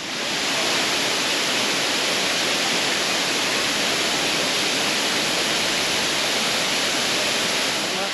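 Areekkal waterfall roars steadily and loudly throughout, a dense unbroken wash of falling water with no pauses and no voices.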